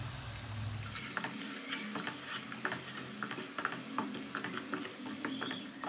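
Tomatoes with salt, red chilli, turmeric and other ground spices frying in a pan for bhindi with egg, giving a steady close sizzle with scattered crackles and spoon-stirring clicks.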